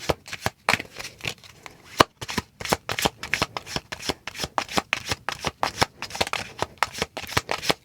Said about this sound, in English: Give me one more card for Leo, please